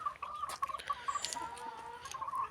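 A red fighting rooster clucks in a farmyard with a quick run of soft, repeated clucks at close range, plus a few faint sharper bird calls in the background.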